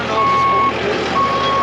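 A telehandler reach lift sounds its reversing alarm, a loud steady electronic beep tone over a rumbling machine engine, close by, brief and continuous.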